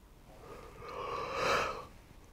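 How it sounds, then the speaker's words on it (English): A single drawn-out yawn from a man with MS, breathy and close, swelling to a peak and fading over a couple of seconds, alone with no talk. "Excuse me, big yawn"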